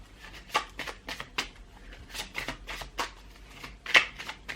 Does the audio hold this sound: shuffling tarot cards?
yes